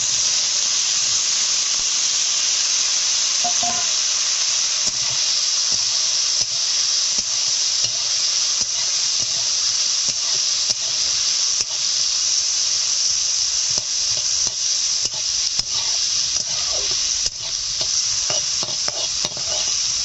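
Boiled bamboo shoots sizzle in a pan for a village-style pickle, a constant loud hiss of frying oil broken by frequent clicks and scrapes of stirring, with no talking.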